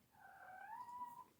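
A cat gives one long, drawn-out meow that rises and then holds a steady tone for over a second, close by and alone.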